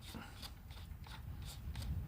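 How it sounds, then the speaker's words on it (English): A 6mm drill bit is tightened into a cordless drill's chuck, giving a quiet series of evenly spaced ratcheting clicks over a low rumble of wind. "Put in my cordless drill."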